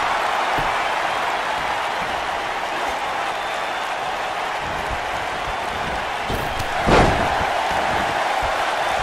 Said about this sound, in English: Hooked up and slammed with authority.